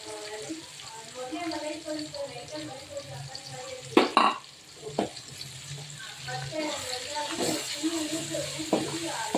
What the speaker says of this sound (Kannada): ಈಗ ರುಬ್ಬಿರೋ ಅಂಥ ಪಾಲಕ್ ಸೊಪ್ಪನ್ನು ಹಾಕ್ಕೊಳ್ತಾ ಇದ್ದೀನಿ